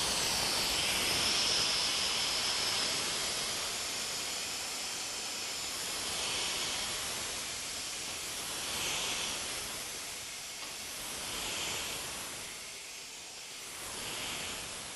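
A SpillPro air-powered spill recovery vacuum runs at full air, giving a steady, broad rushing hiss with slow swells in loudness as it sucks up fluid, alone without talk.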